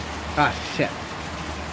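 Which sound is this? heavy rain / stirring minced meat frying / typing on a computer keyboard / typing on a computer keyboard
heavy rain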